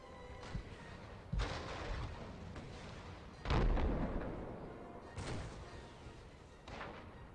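Civil War–era cannons fire in an ACW strategy game. Several deep, booming artillery shots land at irregular intervals over a low rumbling battlefield background.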